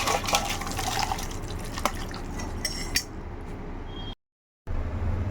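Goat fat ghugni curry is poured from a cooking pot, with liquid splashing and dribbling alongside light clinks of metal utensils, then a brief dead silence before the kitchen sounds resume.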